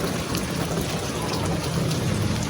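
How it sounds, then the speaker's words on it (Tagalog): Heavy rain from a strong typhoon in rural Tarlac province pours in a dense, constant, loud hiss of drops drumming on surfaces, with no speech. "Ayan, medyo lumalakas na yung ulan."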